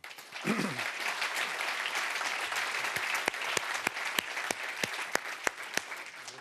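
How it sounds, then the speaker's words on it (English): Sustained applause from a large audience at a football draw ceremony, steady and dense, with a few sharper individual claps standing out toward the end. "please give a big round of applause to Andriy Shevchenko"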